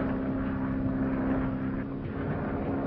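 A 1940s propeller airplane drones steadily in flight, a continuous engine hum with a strong low tone that holds even and unbroken throughout.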